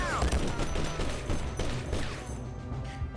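Squad AI soldiers in the video game Conflict: Desert Storm fire their weapons in a dense, continuous fusillade. The shots crackle over a loud, rumbling battle backdrop.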